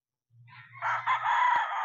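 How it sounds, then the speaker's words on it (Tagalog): A single rooster crows nearby, one drawn-out call rising and holding until it ends. "Yan po ay manok po ni Sir Junmar."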